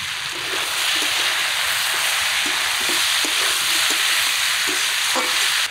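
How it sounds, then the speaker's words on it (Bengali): Mixed vegetables with green chillies and turmeric powder fry in a pan for labra, a loud, steady sizzle broken by repeated stirring scrapes. "হলুদ গুঁড়ো দেওয়ার পরে ভাজা ভাজা করে নিলাম।"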